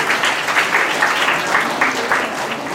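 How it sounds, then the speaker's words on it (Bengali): Audience applause at a scholarship day ceremony in the Sundarbans, a short burst of many hands clapping together, loud and close, with no talk over it. "একবার জোরে হাততালি হয়ে যায় ওদের এই অসাধারণ স্বপ্নের জন্য।"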